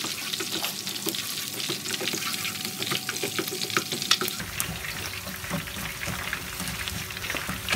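Garlic sautéing in a hot pan, a steady close sizzle with scraping stir strokes running the whole time, no voices.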